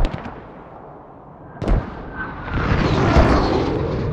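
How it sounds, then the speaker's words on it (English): Mortar shells explode in Squad, with a sharp blast followed by a rolling, rumbling burst that swells and lingers, loud and fairly close. "Your mortars are currently hitting"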